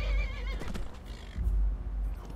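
A horse neighs in the video game Skyrim, a loud whinny with wavering pitch up front, then snorts and low hoof thumps.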